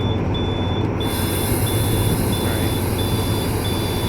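A warning beep repeats in the cab of a TCDD DE 24000 diesel locomotive in Train Simulator on the Taurus Mountains route. The short, evenly spaced high-pitched beeps sound over a loud, constant engine rumble.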